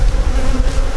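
Buckfast cross Welsh Black honey bees buzz in a dense, steady drone as they are shaken off a hive frame, close and continuous with no voices.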